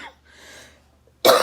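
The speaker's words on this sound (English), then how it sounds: "this cough is still lingering, but it's so much better" A soft breath, then one sharp, loud cough bursts out at the very end, close by.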